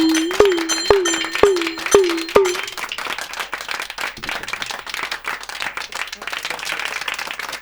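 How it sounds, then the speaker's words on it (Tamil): At a villu paattu (bow-song) debut ceremony, five ringing metallic strikes sound in a steady rhythm, then an audience breaks into sustained applause that fills the rest of the moment. "அதனால நல்ல ஒரு கைத்தட்டல் கொடுத்துருங்க."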